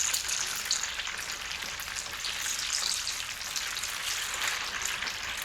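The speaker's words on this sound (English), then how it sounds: "The bell red peppers are being fried in oil, which is a 50-50 split." Red bell peppers frying in a half sunflower, half olive oil mix, a steady dense hiss and crackle of sizzling oil, close and continuous with no voices.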